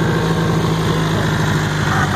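A 1964 Honda motorcycle engine runs loud and close at a steady idle, an unbroken, even mechanical drone with a low throb.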